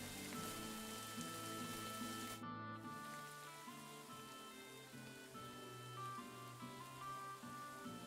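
Steady rain falling in the video game Kingdom Come Deliverance 2, a constant soft hiss and patter that continues throughout, mixed with ambient game music and no speech.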